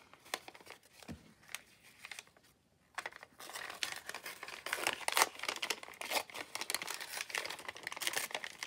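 Paper crinkles and rustles in short bursts while a collage is glued down, soft at first, briefly quiet, then denser and louder crackling handling up close.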